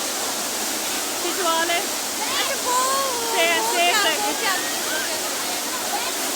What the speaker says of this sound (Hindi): बहाव बहुत ज़्यादा है